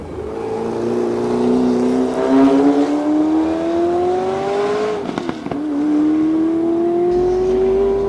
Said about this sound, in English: It's just a beautiful historic race car